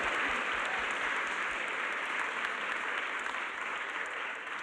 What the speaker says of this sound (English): It's always good to get the round of applause before you start speaking